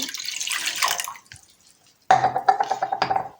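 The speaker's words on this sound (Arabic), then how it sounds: "ودي ميه من الحنفيه اهي." Water from a kitchen tap splashes briefly into a sink or dish, pauses to near silence, then gushes again steadily with spattering close to the listener.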